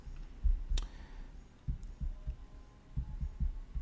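Fast typing on a computer keyboard, quick bursts of dull low thumps and clicks in irregular clusters, close and fairly quiet with no talking.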